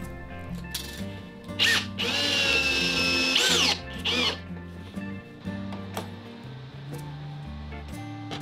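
A power drill drives screws into a workbench in a few short whirring bursts, one longer run and several brief pulses, with quiet clicks and handling between them and no speech.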